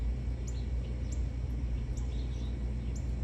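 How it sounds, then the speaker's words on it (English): A small bird chirps in short, high, faint notes repeated about once a second over a steady low background hum. "Here's a bird. Do you hear it?"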